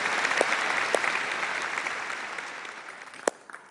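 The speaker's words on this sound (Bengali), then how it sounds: "খুব সুন্দর, ভেরি গুড, জোরে হাততালি, ওয়ান্ডারফুল" Studio audience applause on a Bengali family game show, a dense burst of clapping that gradually tapers off, with a few sharp individual claps standing out near the end.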